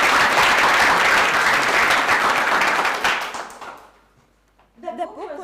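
An audience at a breakfast talk claps loudly for about three seconds, then the applause fades to near silence before a voice begins speaking.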